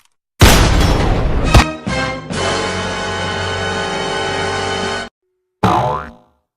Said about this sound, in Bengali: সোজা কলজা বরাবর একটা গুলি মেরে দাও